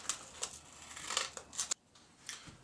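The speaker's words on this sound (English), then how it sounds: "which I would just cut a sheet of" Scissors snip through a sheet of adhesive-backed 220-grit silicon carbide wet-dry sandpaper in a quiet room, making several crisp, close cuts in an uneven rhythm with a short pause near the end.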